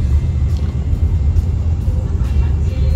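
Steady low road rumble of passing cars near a cafe in Dubai, a continuous close engine drone with faint higher hiss, no distinct horns or voices standing out.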